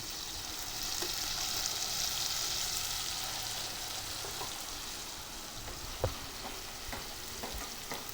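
Ground masala paste frying in hot oil for a jitada fish curry, giving a continuous hissing sizzle with occasional soft stirring taps.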